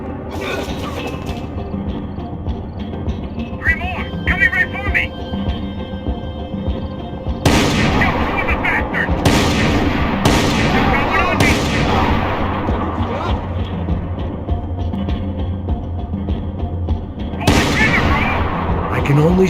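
Gunfire in the 2012 PC shooter Max Payne 3. Loud, sharp shots and booming blasts come close together as separate bursts, and between them there is mechanical clatter and people talking.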